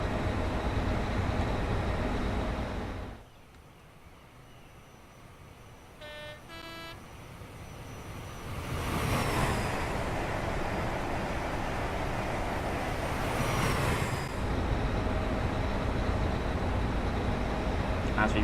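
Class 43 HST Valenta train in Train Simulator 2019 running on the line toward Dawlish, a steady loud engine and rail drone with a brief quieter stretch, two-tone horn toots and swelling rushing passes.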